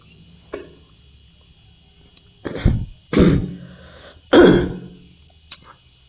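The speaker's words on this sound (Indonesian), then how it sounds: "ini agak batuk ini ya" Several harsh coughs and throat-clearing bursts from one nearby person, spaced irregularly across a quiet room tone, with faint insect chirping underneath.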